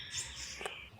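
A black-naped monarch, a small flycatcher-type bird, gives a short series of high, thin whistled calls at moderate distance, set against faint background insect chirring.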